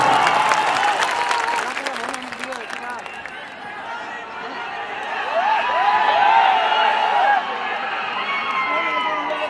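A large crowd at a Bihar Lok Sabha election rally claps and cheers in waves of applause, with shouting and a speaker's voice over loudspeakers.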